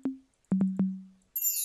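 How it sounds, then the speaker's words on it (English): An FL Studio sample for Afrobeat production plays a few low, ringing tonal hits with short decays, then ends in a brief bright metallic chime shimmer, with no voices. "These are chimes."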